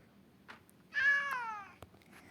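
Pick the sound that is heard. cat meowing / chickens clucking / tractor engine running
cat meowing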